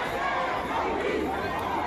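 A large crowd of marchers in Ferguson shouts and chants together on the street, a dense, continuous roar of many voices up close.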